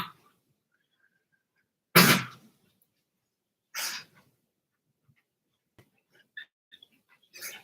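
A dog hacks and coughs in a few sharp, explosive bursts separated by quiet pauses, close by, followed by small snorting sounds.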